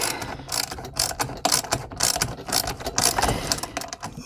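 Long screws being driven into plastic parts of a Chapin 8400C spreader during assembly, heard as a close, rapid, irregular ratcheting and clicking with short bursts and pauses.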